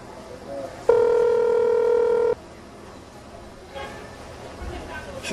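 A steady electronic telephone tone sounds once for about a second and a half, loud and close, with people talking faintly around it in a room.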